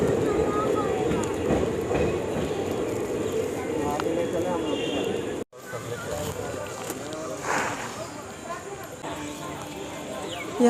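Train sounds at Sultanganj station in Bihar after a long journey from Kharagpur, a steady rumble and clatter of rail cars with a brief cut midway, while people talk over it.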